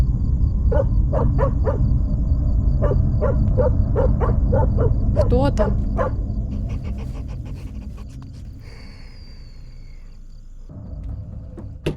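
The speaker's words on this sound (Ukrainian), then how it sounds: "На кого гавкаєш?" A dog barks repeatedly in the Fears to Fathom horror game, a series of sharp close barks with panting, fading later as a voice speaks over the game audio.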